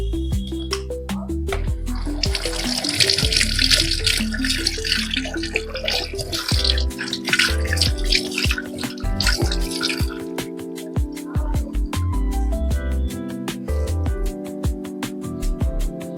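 Spiny aloe vera leaves are rinsed and rubbed clean under running water, with a burst of splashing flow and dripping, all set against steady background music.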